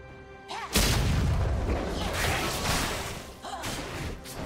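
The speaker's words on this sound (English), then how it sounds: "Blue team's turret has been destroyed." A heavy crash and rumbling boom as a turret is destroyed in League of Legends, a loud impact that decays into sustained debris noise with a second swell near the end.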